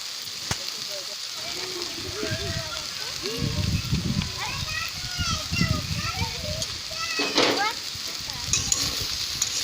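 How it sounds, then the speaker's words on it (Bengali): Puffed rice and tomato fry and get stirred in a pan on a low gas flame, a continuous sizzle with scraping strokes under children's voices and chatter nearby. "তো আরও একবার ভালো করে নাড়িয়ে নিচ্ছি"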